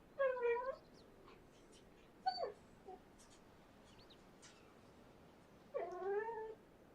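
A husky lets out several high, wavering screams and yelps with pauses between, fairly faint, in an otherwise quiet room.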